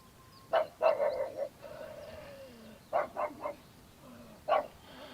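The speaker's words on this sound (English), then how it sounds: "Shut up, dog." A dog barks outdoors on the Cornwall coast near a field with alpacas, several sharp barks in short clusters at moderate distance, faint against quiet background.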